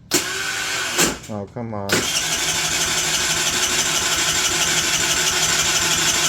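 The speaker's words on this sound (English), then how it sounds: "It's cranking." A car engine cranks under a Topdon V2200 jump starter, a short stuttering turnover that catches and settles into a steady, loud idle, with people talking briefly over it.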